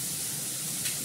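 Food frying in a pan, finished with a scattering of coriander leaves, gives a steady, close sizzling hiss throughout with no talk.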